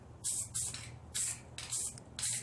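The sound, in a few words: spray can spraying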